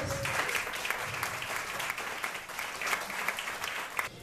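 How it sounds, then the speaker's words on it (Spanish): Audience applause for the artists of an art exhibition fills the room, a steady, dense patter of many hands clapping at moderate distance with no voices over it. "Un aplauso general para todas."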